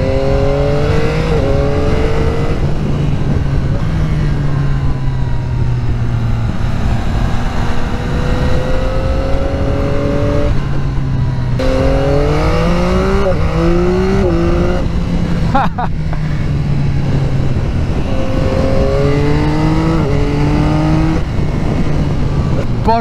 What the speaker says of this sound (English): Just flipping up the gears with the quick shifter is just an absolute dream.